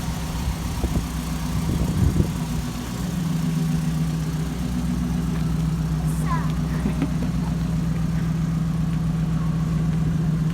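Truck engine rumbling steadily as it is driven out of a garage, a continuous low idle-like drone with a few brief clunks early on, with people speaking over it.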